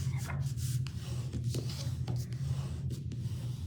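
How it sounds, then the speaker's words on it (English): A score line on a paper card is burnished with a tool. Soft, close rubbing strokes repeat in a steady back-and-forth rhythm over a low background hum. "So I'm just burnishing that score line"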